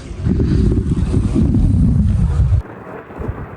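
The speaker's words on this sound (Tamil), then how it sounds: "கொஞ்சம் புயல் அதிகமாக இருக்கு." Heavy stormy wind at sea roars and buffets against the microphone for a few seconds, rumbling low and loud, then drops abruptly to a softer rushing background.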